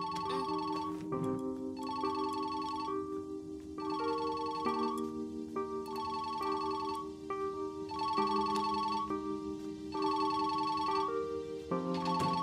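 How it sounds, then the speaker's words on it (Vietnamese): In a 2024 crime action film, a telephone plays a melodic electronic ringtone in repeated bursts with short gaps between them. It rings steadily and clearly on its own, with no talking. "Đến nghe điện thoại."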